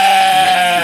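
A sheep, likely one of the rams on a small homestead farm, gives a loud, sustained bleat close by that fills the whole moment, with no talking over it.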